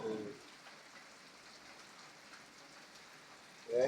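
Morning rain falls as a steady, soft hiss of drops on surfaces, even and continuous throughout, with brief faint voices at the very start and end.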